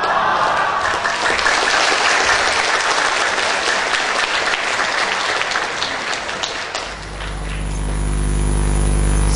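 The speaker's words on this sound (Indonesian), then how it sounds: "Sekali lagi, tepuk tangannya meriah." An audience at an evening dharma talk claps loudly and steadily for several seconds, then the applause breaks off, leaving a low rumbling hum.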